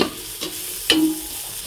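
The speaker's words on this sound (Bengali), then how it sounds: "তেলে ভেজে নিচ্ছি" Food fried in oil in a rice cooker and stirred, giving two or three brief scraping strokes over a low steady sizzle, close up and quiet, with no voices.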